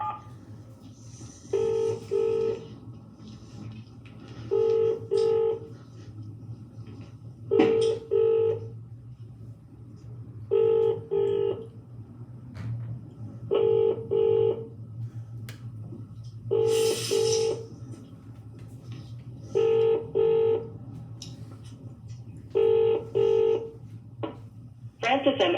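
On an unanswered phone call, a ringback tone repeats in short, evenly spaced double bursts about every three seconds over a low, steady hum, with no one picking up.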